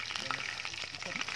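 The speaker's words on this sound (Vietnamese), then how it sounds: "chiên rất là tuyệt luôn mọi người nha" Food sizzles and crackles steadily in a pan on a portable mini stove during a trip to Vietnam's Central Highlands. The frying is close and even throughout the short stretch.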